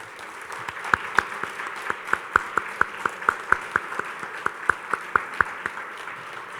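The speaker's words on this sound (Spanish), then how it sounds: "repitamos un fuerte aplauso para él" Rhythmic clapping at a book presentation, steady and fairly close, with each clap distinct and evenly spaced, like a small group or a few people clapping in time rather than a full ovation.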